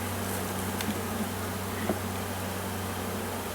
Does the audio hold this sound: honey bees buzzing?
yes